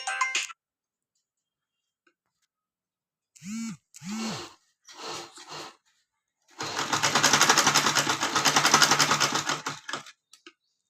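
Sewing machine stitching trim on a blouse, running in short bursts, then one long steady whirring run of rapid stitching, close and clear with quiet gaps between.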